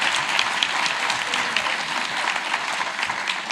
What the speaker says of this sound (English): let's give a round of applause for the beautiful Oprah Ryan and Senator Mar